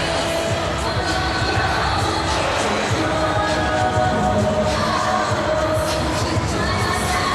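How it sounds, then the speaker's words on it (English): A boxing arena crowd roars and cheers continuously, a dense, loud wall of voices with shouts and whistles rising and swelling throughout, close and enveloping. "Fans roaring and cheering every time they see him on the big screen here."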